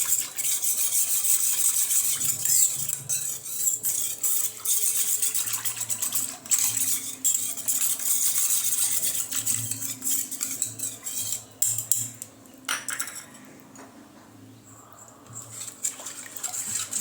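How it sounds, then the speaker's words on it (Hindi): A spoon clinks and scrapes steadily against a bowl as red chili powder and turmeric are stirred into a fish curry mixture. The mixing goes on close up, with occasional wet stirring and brief pauses. "लाल मिर्च पाउडर, हल्दी, अच्छे से हमें इसे मिक्स कर लेना है।"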